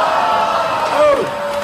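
Spectators at a drone battle erupting in loud cheers and whoops, a dense wall of shouting voices with one rising-and-falling yell standing out near the end.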